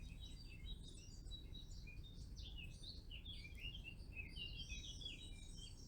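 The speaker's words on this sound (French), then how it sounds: "tu entends toujours ces petits oiseaux qui chantonnent à l'extérieur et qui t'emplissent de paix" Many small birds chirp and twitter continuously in the distance over a low steady rumble, a busy outdoor chorus with no voices.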